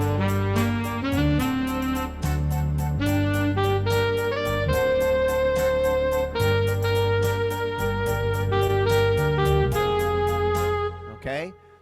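Lowrey touchscreen organ playing a setup sound, with sustained chords under a busy melodic line and a bright, regular rhythmic accompaniment. Loud and continuous for most of the passage, ending with a brief glide before stopping.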